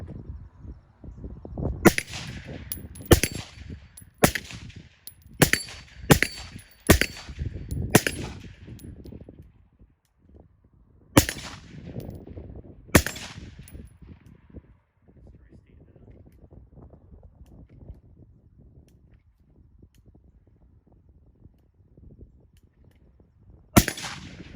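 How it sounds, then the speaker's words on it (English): A shooter fires at a steel plate rack outdoors, a series of sharp, loud gunshots in quick succession followed by a pause and a few more spaced shots, with wind noise on the microphone between them. "let me shoot this plate rack"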